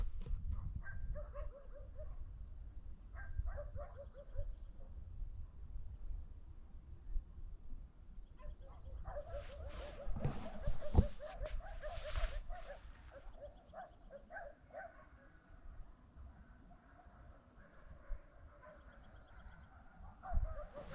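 Village dogs bark in scattered bursts of yips and woofs, some near and some farther off, with a whimper now and then, over faint outdoor background in a rural area of Serbia.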